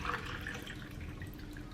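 Water for a zero-oil chicken curry gravy with eggplant and potatoes is poured into a pot, making a steady, soft splashing and trickling sound close by, with no talk.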